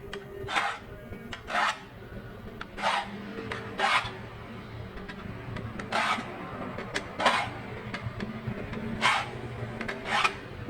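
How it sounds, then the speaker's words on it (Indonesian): A file rasps against a hand saw's teeth to sharpen it, in short, repeated strokes, steady and close, with brief pauses between each pass. "untuk mempertajam gergaji teman-teman"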